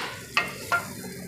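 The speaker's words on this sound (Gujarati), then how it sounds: "આ વઘાર આપણે ડાયરેક્ટ આમાં રેડી દઈશું" Hot tempering poured into dal gives a steady sizzle throughout, with two sharp bursts of louder crackling where the oil hits.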